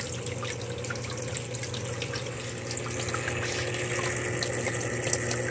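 A big 110-gallon stock tank serving as an indoor pond drains in a steady, continuous rush of running water, even and moderately loud with no voices.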